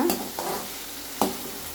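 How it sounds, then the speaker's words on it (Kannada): Green peas and onion greens sauté in a hot pan, a soft sizzle under two sharp scrapes of a spatula stirring the mix. "ಈರುಳ್ಳಿ ಎಲೆ ಸ್ವಲ್ಪ ಚೆನ್ನಾಗಿ ಬಾಡಿಸ್ಕೊಳ್ಳೋಣ"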